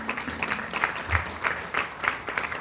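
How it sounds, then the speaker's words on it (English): A small audience at a community luncheon on animal welfare claps for a speaker, light pattering applause with a faint rhythmic pulse. "Please give him another round of applause."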